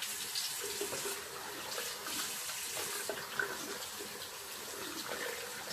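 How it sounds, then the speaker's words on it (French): Cold water runs steadily from a tap into a sink, a continuous close splashing rush with no talking. "Moi, j'aime bien, je mets de l'eau froide"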